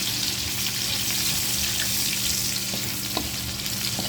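Ginger and garlic fry in a pan for bangus sinigang sa miso, giving a constant close sizzle with a few small stirring taps.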